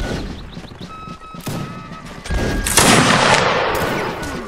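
Musket volleys crackle in the Mount and Blade Warband Napoleonic Wars game, scattered shots building into a dense, booming fusillade that grows louder and sustains toward the end.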